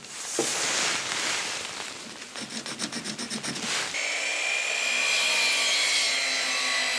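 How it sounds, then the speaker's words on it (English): A power saw cuts 2x4 lumber boards. A whining cut and rapid rasping strokes come first, then the saw spins down into a lingering tonal whir. The sound is close and moderately loud, with no talking. "let's go ahead and cut these 5 2x4s to 38 inch"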